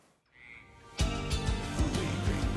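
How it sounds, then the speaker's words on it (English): Frog croaks within a music track, a few rhythmic low croaks pulsing under a dense instrumental mix, fairly loud and without speech. "There was some frogs."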